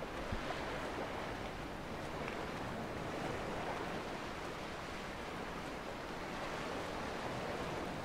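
Steady rush of surf washing ashore in the video game Dear Esther, a continuous broadband wash of water with no voices, even in level throughout.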